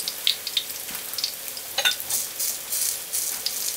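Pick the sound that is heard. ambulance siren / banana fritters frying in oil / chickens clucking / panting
banana fritters frying in oil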